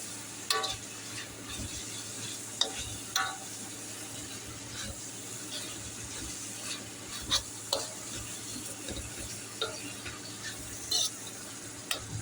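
Ridge gourd peel chutney with tamarind is stirred and sautéed in a pan, a soft sizzle broken by several sharp scrapes and clinks of the spoon against the pan, fairly quiet with no voices.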